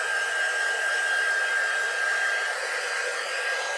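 Hair dryer blowing steadily on a small craft piece, a constant close whirring rush of air with a thin high whine, uninterrupted for a few seconds with no talking.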